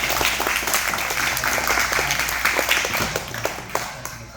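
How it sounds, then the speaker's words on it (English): Sustained applause from a crowd, dense and loud, with many hands clapping at once before tapering slightly near the end. "Everybody give Miss Ava another round of applause"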